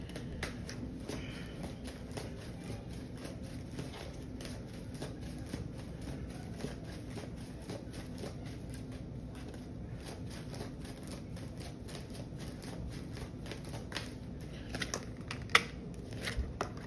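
Tarot cards being shuffled for a reading, a steady close riffling and flicking that runs continuously, soft and alone.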